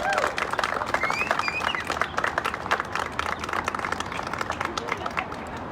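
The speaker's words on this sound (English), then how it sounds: "Give a round of applause to Joyce." A crowd applauds at a Black Lives Matter Rhode Island PAC event marking the George Floyd anniversary: sustained, dense clapping with a few cheers and whoops rising above it, holding steady for several seconds.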